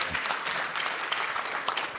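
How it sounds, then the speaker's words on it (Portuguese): An audience at an agro-industry conference gives a round of applause: a fairly loud, continuous wash of many hands clapping, with occasional crisper claps. "Uma salva de palmas para mim."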